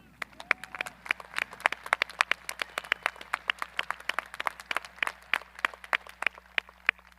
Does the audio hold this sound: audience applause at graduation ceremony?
yes